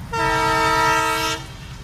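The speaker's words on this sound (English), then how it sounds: "Let's take a train now and visit Dharamshala." Train horn in India blowing one loud, steady, chord-like blast for just over a second, over a low rumbling rail background that continues after the horn stops.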